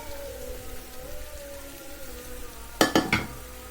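Potato pieces coated in turmeric and salt drop into a hot pan of fried onion, garlic, green chilli and tomato, giving a steady soft sizzle with a few sharp clattering bursts near the end.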